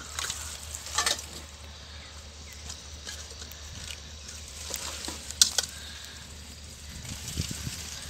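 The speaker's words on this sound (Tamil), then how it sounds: "பட்டை லவங்கம், சோம்பு இதெல்லாம் போட்டுடலாம்." Whole cinnamon, cloves and fennel seeds sizzle in hot oil for a Tamil-style mutton biryani, a steady close frying hiss with soft crackles and a few sharper pops throughout.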